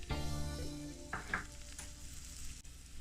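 Small piece of hot pepper and fresh onions frying in hot oil for Jamaican callaloo patties, a close, steady sizzle with a brief stirring burst, over faint background music.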